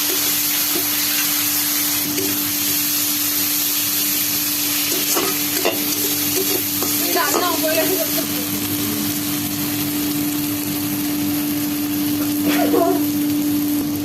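Masala for a Bengali-style rohu fish curry is stirred in a hot pan, a constant close sizzle and hiss with scattered spoon scrapes, under a steady hum and some talking.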